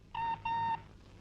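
A telephone rings with two electronic trill bursts, the second longer, heard near and fairly loud over a low background hum.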